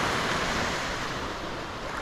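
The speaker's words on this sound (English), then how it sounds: "We got to listen to the waves all night this morning." Ocean surf washing onto a beach at Neah Bay, Washington, a steady broad rushing roar with a little wind noise, continuous and fairly loud with no voices.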